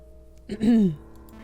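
A human voice imitates a cat's meow, a single drawn-out, falling mew of about half a second in a quiet room.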